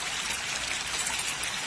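Water flows steadily in the Chitti Bein stream, a close, continuous rushing trickle with a bright splashing texture and no voices.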